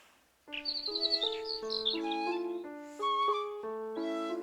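Bird chirping in a stage production of Mary Poppins comes as a bright, tuneful run of high chirps and trills over sustained musical tones. The sound is loud, close and continuous.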